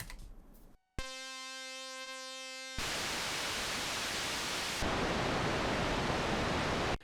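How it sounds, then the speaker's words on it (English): Noise generator of a Melbourne Instruments NINA synthesizer, cycling through its noise types: a brief hiss, then a tone-rich buzzy texture, then steady broadband hiss that steps louder twice, heard alone with no talk. "it also has a noise generator which provides different types of noise you can choose from"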